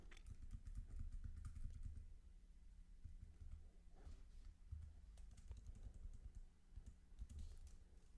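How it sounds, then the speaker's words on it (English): Arrow keys are pressed on a computer keyboard in a series of quick, close clicking taps with short pauses between bursts, over a low steady hum. "So we'll just get there with the arrow keys."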